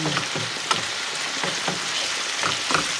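Carrots and other vegetables sizzle steadily in a hot pan just after being deglazed with vinegar, a continuous close crackle with soft stirring scrapes running through it and no talking.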